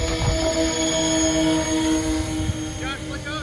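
An aircraft engine holds a steady, loud droning tone on a dry lake bed while throttling up toward full power, with a tonal whine that stays constant near the listener.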